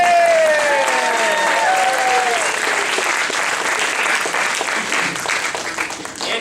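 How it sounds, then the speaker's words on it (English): At a kindergarten promotion ceremony, a crowd of parents and guests applauds in a sustained, dense round of clapping, with scattered high voices calling out early on before it gradually thins. "I did stop some applause, so anyone who wants to applaud that"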